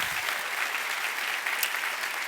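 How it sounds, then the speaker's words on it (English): A conference plenary audience applauds refugee speakers, sustained, even clapping from a large crowd that fills the room from start to finish without any speech. "Please give them a huge round of applause."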